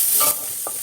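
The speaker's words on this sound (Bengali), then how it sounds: "রসুনের সঙ্গে এই চিংড়ি মাছগুলো ভাজা হয়ে গেছে" Shrimp frying with garlic in a pan give a brief close sizzle with a stirring scrape. The burst is louder in the first third of a second, then settles into a steady hiss.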